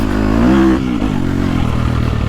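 A KTM 250SXF Factory Edition dirt bike ridden on an unprepped track, its engine loud and close, rising in pitch through the mid-range then holding a steady buzzing drone.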